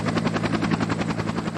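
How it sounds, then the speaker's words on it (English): A helicopter hovers low over a crop field, its rotor pulsing in a fast, steady beat with a heavy whine, loud and close throughout. "The gusts were created by a helicopter well placed for this artificial effect that blows"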